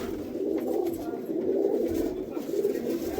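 Several pigeons coo in a brief, steady low murmur inside a hobbyist's pigeon loft in America, close and continuous.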